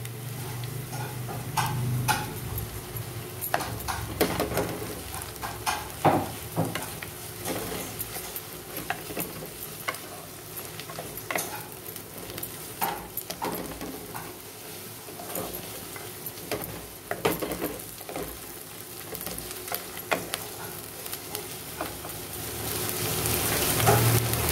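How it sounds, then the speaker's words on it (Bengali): Potatoes fry with browned onions in a pan for an aloo sandwich filling, a steady close sizzle broken by repeated scraping stirs and clicks of the utensil, with no talking. "পেঁয়াজটা আমার ভাজা হয়ে গেছে, আমি এবার আলুটা দিয়ে দিচ্ছি"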